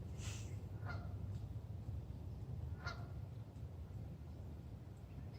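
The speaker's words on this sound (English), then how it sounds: "I'm curious about what that goose is doing." A goose honks outdoors several times, in short nasal calls at mid distance over a steady wash of background noise, with no talk.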